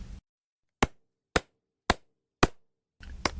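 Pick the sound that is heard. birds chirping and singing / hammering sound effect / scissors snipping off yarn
hammering sound effect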